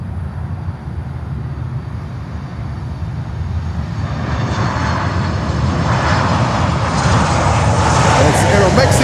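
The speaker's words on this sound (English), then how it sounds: "It's Aeromexico coming in." An Aeromexico airliner comes in to land at Miami airport. Its jet engine roar swells from a moderate rumble to a loud, broad, near roar over nine seconds, with outdoor background noise.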